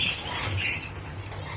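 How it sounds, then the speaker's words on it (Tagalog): A parrot among lovebirds and other parrots gives a harsh, close squawk. It rises briefly over a noisy, busy background with no talk. "Parrot."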